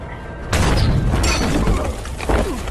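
A grenade blast in a film scene erupts as a sudden loud burst with broad rumbling noise, followed by debris and scattered mechanical clatter, with a second smaller impact near the end.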